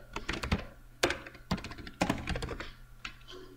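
Keys clacking on a computer keyboard running Kali Linux, ending in an Enter press: a handful of sharp, close taps spaced about half a second apart, with no voices.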